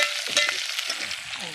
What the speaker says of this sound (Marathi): तर हे बघा आपलं खांडपिंड असे तेलामध्ये तळून घ्यायचे मस्तपैकी.